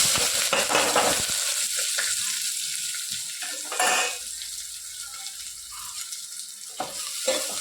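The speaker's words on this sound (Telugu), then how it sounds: "సో ఇవి వచ్చేసి బ్రౌన్ కలర్ వచ్చేదాకా ఫ్రై చేసుకోవాలి." Green chilies, onion and cumin fry in a hot pan with a steady loud sizzle, broken by a few bursts of stirring and clattering of utensils, with no talking.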